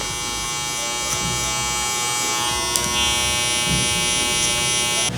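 Electric hair clippers with a 1.5 guard buzz steadily and close while cutting hair for a low taper mullet at a barber's, a constant motorized drone with small variations as they move.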